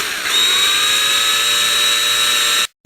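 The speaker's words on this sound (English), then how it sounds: "drill." A power drill bores a hole after the spot is marked and center-punched, a loud steady high whine running for over two seconds before stopping abruptly.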